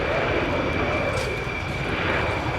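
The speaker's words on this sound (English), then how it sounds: "now accelerating to display the Apache's full range of maneuverability" A Boeing AH-64 Apache helicopter accelerates during an air show display, a loud continuous engine roar with a steady whine overhead while an announcer talks over it.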